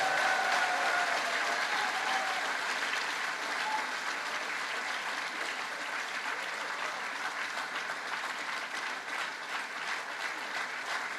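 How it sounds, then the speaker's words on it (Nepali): An audience at a church camp meeting claps steadily for Reverend Rohit Thapa, a dense, sustained round of applause from a large crowd that stays even and loud throughout. "let's give a rounding hand of applause to Reverend Rohit Thapa"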